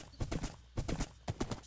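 Horse hooves clip-clop in steady paired beats while riding along water in a video game, close and clear with no voices over them.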